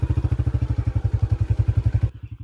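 Motorcycle ridden on a rough unpaved village road, its engine pulsing in a fast, even thumping rhythm close by, loud and steady before the sound abruptly drops off near the end.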